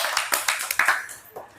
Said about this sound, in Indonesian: Boleh kasih tepuk tangan dulu untuk Pak Willy dong, keren banget.